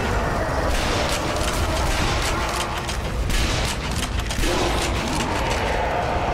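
Gunfire from the video game Sniper Elite: Nazi Zombie Army fills the stretch, a dense volley of sharp shots and booms over a continuous loud game soundscape, with no voices.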